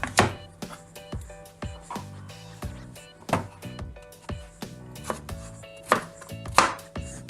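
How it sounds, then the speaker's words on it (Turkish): A knife chops through red cabbage on a cutting board in a steady series of crisp, close thuds and crunches, with no talking. "şimdi mor lahanamızı doğrayacağız"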